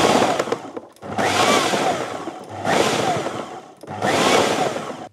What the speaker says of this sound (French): en utilisant la fonction pulse, on va donner des à-coups, ce qui nous permettra de mieux réguler en fait le taillage de l'échalote